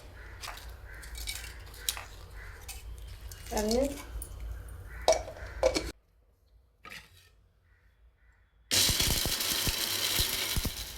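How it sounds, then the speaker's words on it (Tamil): Mixer grinder powdering roasted biryani spices: after some kitchen clatter, rustling and a quiet pause, a loud, steady, harsh whirring roar starts abruptly near the end and runs on. "இதை எல்லாத்தையும் மிக்சியில் போட்டு ஒரு பவுட்ரு பண்ணிட்டு வந்துடலாம்"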